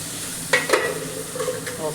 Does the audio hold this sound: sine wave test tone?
no